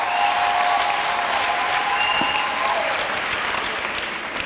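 A church congregation applauding for Jesus Christ, steady dense clapping from a large crowd filling the room throughout at an even, loud level.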